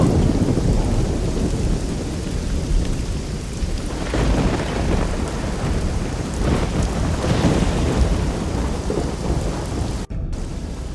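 A heavy thunderstorm in the video game Risen 2: Dark Waters, with dense steady rain and deep rolling thunder rumbling throughout, loud and close, plus a brief sharp click near the end.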